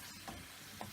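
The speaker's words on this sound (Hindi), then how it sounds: "अब दोबारा से हम इसको भून लेंगे अच्छी तरह," Fajita filling with paprika and vinegar sautéing and being stirred in a pan: a quiet, steady sizzle with a couple of soft scraping stirs, no talking.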